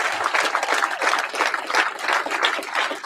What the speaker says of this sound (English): Can we give them a big, gigantic round of applause?